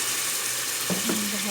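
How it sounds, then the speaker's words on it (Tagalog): Chicken frying in a pan for sotanghon chicken guisado gives a steady sizzle, then a sharper hiss bursts up as a little water is poured in near the end. "lagyan natin ng konting tubig yung ating chicken para maluto siya"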